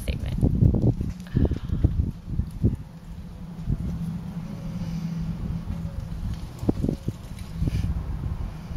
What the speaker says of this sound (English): And the wind agrees with that statement.